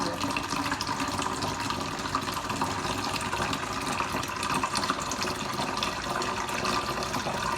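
Borehole water drawn straight from the ground is poured steadily into a vessel, a continuous close splashing and gurgling rush with no pauses and no talking.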